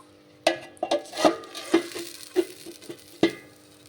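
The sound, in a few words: stirring taro and potato curry after adding water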